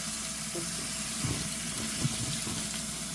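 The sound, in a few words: rinsing potatoes under a running tap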